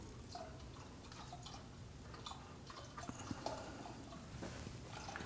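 Coolant dribbling from a lower radiator hose of a 2001-2009 Volvo S60 2.5L into a bucket, faint irregular drips and trickles plinking close by over a quiet background.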